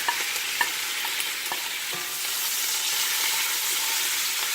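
Butter, onion, parsley and thyme sizzle steadily in a hot pan, a dense, even frying hiss with a few soft scrapes and taps of stirring, close and fairly loud throughout.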